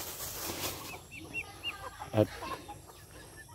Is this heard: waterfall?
no